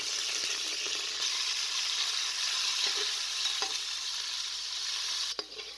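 Steady sizzling and crackling of chicken frying in hot oil in a pressure cooker, continuous hiss with a few faint clinks and scrapes of stirring.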